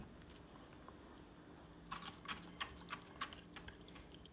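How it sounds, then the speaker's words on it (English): Crunching bites into crispy battered cod fillet, several sharp close crackles in quick succession after a quiet pause, loud against a faint background. "I hope you heard that crunch then."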